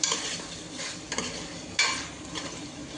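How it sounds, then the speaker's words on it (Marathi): Country chicken coated in masala is stirred in a hot pan, giving a steady close sizzle broken by a couple of sharp scraping strokes of the spoon against the metal. "चांगलं याला फिरवा. सर्व मसाला लागला पाहिजे मस्त."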